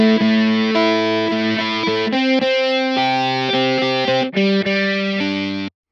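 A loud distorted electric-guitar riff produced in software without a real guitar, compressed with long attack and release. Heavy sustained power chords shift pitch in a steady chugging pattern for several seconds, then cut off abruptly.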